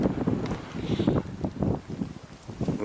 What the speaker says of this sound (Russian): Ветер сильный здесь в поле.